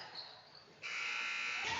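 A game clock buzzer sounds at the end of the first quarter in a high school varsity basketball game, Berea-Midpark against Amherst-Steele. It is one loud, steady buzz that starts partway through and holds to the end over crowd noise.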